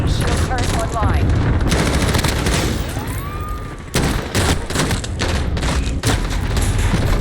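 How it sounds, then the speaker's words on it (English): Allied cluster strike explosions in a video game, a dense rapid barrage of loud blasts and gunfire crackling continuously, with speech and radio callouts mixed in. "Allied cluster strike inbound"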